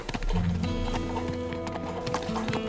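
Hooves of a horse in a video game clop steadily at close range beneath a thick layer of game sound, the beat running without a break from start to finish.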